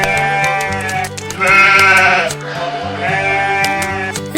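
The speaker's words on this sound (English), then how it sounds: "Here are the sheep." Sheep bleat in a farm setting, several loud, wavering calls close by, with a longer cluster of bleats in the middle and animal noises continuing throughout.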